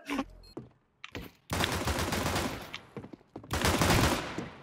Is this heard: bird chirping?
no